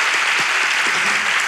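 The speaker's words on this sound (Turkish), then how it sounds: "Alkışlarla hocamıza." Dense, steady clapping from a studio audience applauding the teacher, loud and close, with no voices over it.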